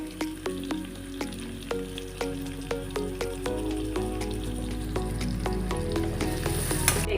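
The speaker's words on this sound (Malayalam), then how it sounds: "അതേ എണ്ണയിൽ തന്നെ നമ്മൾ സവാള ഇട്ട് ആവശ്യത്തിനുള്ള ഉപ്പും ചേർത്ത് വഴറ്റുക." Onions sizzle steadily in hot oil with salt for a fried chicken curry, a dense close frying hiss broken by regular scraping stirs of a spoon against the pan.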